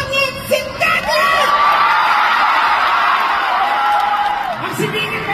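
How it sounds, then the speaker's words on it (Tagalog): A live comedy show audience erupts in sustained shouting and whooping, a loud dense crowd roar that swells and holds, with a few voices rising above it. "Magpalakpakan po na may kasamang sigawan na nasabing pangit si Tekla!"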